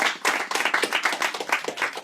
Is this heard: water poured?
no